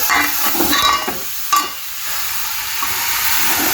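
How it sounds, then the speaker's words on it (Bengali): Radish greens fry in a pan on a home stove, a loud, close, steady sizzle and hiss with a few brief stirring scrapes and no talking. "মূলা শাক ভাজি করতেছি"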